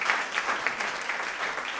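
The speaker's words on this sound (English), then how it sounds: "round of applause for my parents" An audience claps warmly for a performer's parents at a tabla recital, a lively, fairly close applause with slight swells and no talking.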